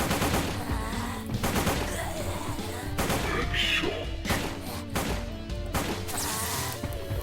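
Rapid machine gun bursts and heavy shotgun blasts in a zombie shooter game, dense overlapping gunfire with impacts and crashes filling the whole stretch at a loud, steady level.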